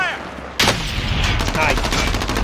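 Gunfire in the video game Call of Duty Warzone: a sharp, loud blast erupts after a brief quieter lead-in, followed by a rapid string of pulsing shots and rumbling explosions that fill the rest close and dense.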